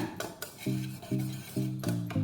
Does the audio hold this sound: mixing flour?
yes